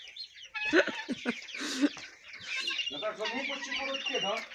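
Chickens and roosters cluck and call busily, close by, with overlapping bird chatter throughout.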